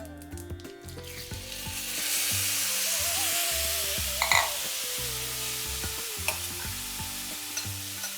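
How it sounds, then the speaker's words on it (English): Spinach stir frying in coconut oil with urad dal and curry leaves, a steady close sizzle running throughout while music plays over it. "We're going to add our spinach."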